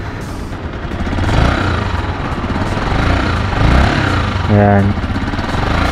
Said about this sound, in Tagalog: Pakinggan nyo yung makina guys.